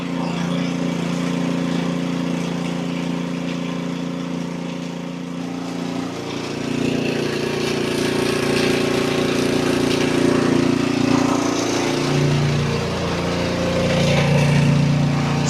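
A Toro snowblower engine idles steadily and loudly nearby, its low, even drone holding for the whole stretch with a slight shift in pitch partway through and no talking.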